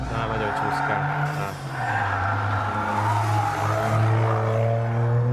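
A Toyota GR Yaris slides around a race track, its tires skidding and squealing continuously over a loud, steady engine drone, with voices talking throughout.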